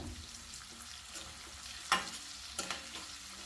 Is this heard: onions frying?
yes